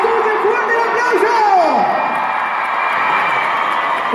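A concert crowd at the Auditorio Nacional in Mexico cheering and whooping for a banda singer, a dense, steady roar of voices with whistles and shouts, loud and continuous throughout.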